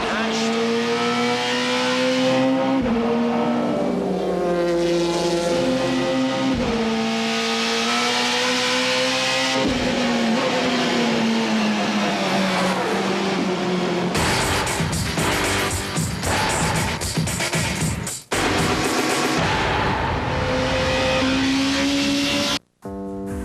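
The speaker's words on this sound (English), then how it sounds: "Back on track, our number 7 BMW is now leading the GT category." A BMW GT-class race car at Road Atlanta during a 2001 SCCA World Challenge race, its engine roaring loudly and continuously with shifts and revs throughout, under a commentator's voice.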